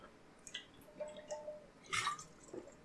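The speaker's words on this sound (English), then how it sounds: "Let me take a sip of water real quick here." Someone takes a sip of water close to the microphone, soft wet slurping and swallowing sounds with a brief gulp, quiet and alone.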